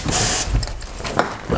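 Starter fluid blasts from an aerosol can into the engine of an abandoned Toyota MR2, a loud close hissing spray in short bursts, with a rattle of the can between sprays.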